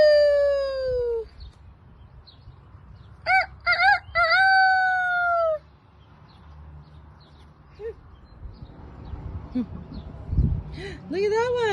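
A person imitates a rooster's crow with a long drawn cock-a-doodle-doo, followed by short vocal bursts and softer squeaky calls in a backyard garden, with quiet background noise between.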